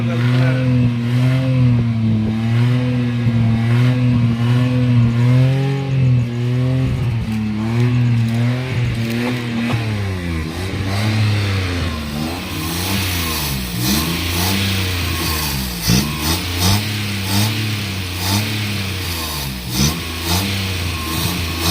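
A Maruti 800 car engine revs repeatedly after its throttle body has been cleaned, the pitch rising and falling in a steady series of loud, close throttle blips that grow faster and choppier toward the end.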